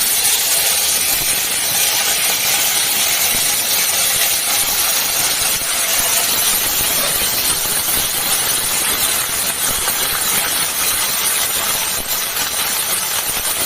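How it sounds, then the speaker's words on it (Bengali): Whole cumin seeds sizzle steadily in hot ghee, a loud, even hiss with fine crackle throughout and no talk. "তেল দিচ্ছি না বন্ধুরা, ঘি দিচ্ছি। একটু জিরে দিয়ে দিলাম, গোটা জিরে দিয়ে দিলাম।"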